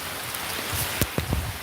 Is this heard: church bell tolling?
no